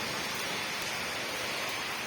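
Rain falling steadily, a dense, even hiss of drops on surfaces, moderately loud and unbroken for the whole stretch, with no voices.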